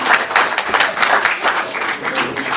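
A live comedy audience claps for the red team in a steady, enthusiastic burst of applause, full and close, lasting the whole few seconds with no voices over it.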